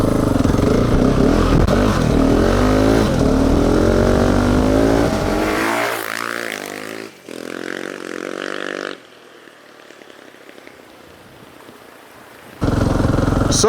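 KTM 690 Enduro single-cylinder motorcycle ridden down a mountain, its engine loud and close as it accelerates through the gears, then dropping away to a quieter coast before picking up again.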